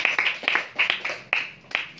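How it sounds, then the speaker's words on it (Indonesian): A church congregation clapping after a sermon, with sharp, fairly close claps in a loose, uneven rhythm rather than a dense roar, suggesting a small group. "Mari tepuk tangan Bapak Ibu."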